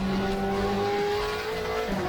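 TA2 race car at Road Atlanta, heard as a loud, close, sustained engine drone holding a steady pitch, which dips briefly near the end.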